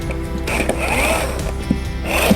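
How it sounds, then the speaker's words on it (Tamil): The steering motor of a ride-on toy BMW car whirs steadily up close, with faint clicks and mechanical rattling throughout. "இந்த மோட்டர் சத்தத்தை பாருங்கள்"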